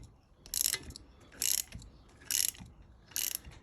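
A ratchet wrench clicks in four short bursts, tightening two nuts together on seized exhaust bolts of a Kawasaki ZX9R motorcycle, close and fairly quiet with brief pauses between strokes.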